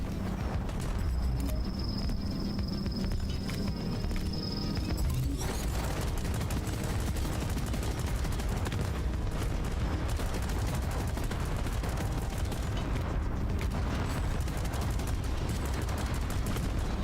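Turret gunfire in the co-op video game Deep Rock Galactic, a dense, loud and continuous stream of rapid shots and booming impacts, with a high whine fading out after the first few seconds.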